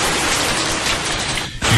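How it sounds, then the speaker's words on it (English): Steady rain falls evenly throughout, a dense continuous hiss with a brief dip near the end, close and fairly loud with no talking. "on the sound of the rain"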